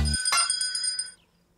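A cartoon telephone in Pocoyo gives a short bright electronic ring that hangs briefly and cuts off, heard alone after a faint low thump.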